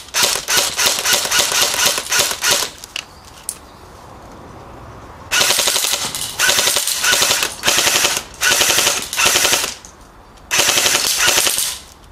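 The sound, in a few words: airsoft gun firing BioBalls BBs, 0.25 g and 0.2 g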